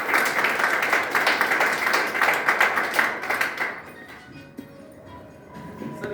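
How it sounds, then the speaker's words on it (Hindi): An audience at an industry gathering bursts into dense, steady applause that fades after a few seconds, leaving quieter room sounds. "तो मैं चाहूंगा एक जोरदार ताली।"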